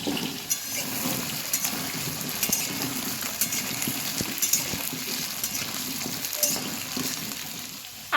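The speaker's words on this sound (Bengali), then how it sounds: "সর্ষের তেলটা গরম হয়ে গেছে, এবার আমি ধুয়ে রাখা আলুগুলোকে তেলের মধ্যে দিয়ে দেবো।" Small new potatoes frying in hot mustard oil for Bengali aloo dum: a steady, close sizzle and crackle that holds through the whole stretch, with occasional soft stirring clicks and no voices.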